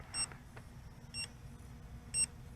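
Three short electronic beeps from a Potensic Dreamer 4K drone on return to home, evenly spaced about a second apart, faint over a low steady hum.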